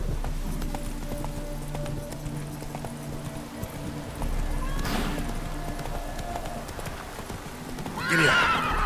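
Roach, a horse in The Witcher 3, gallops with steady clip-clop hoofbeats under a low game ambience, then gives a loud, close whinny near the end.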